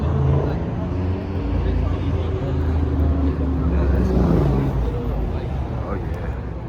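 A car drives at night near an underground car meet, its engine droning low and steady close by while someone talks over it.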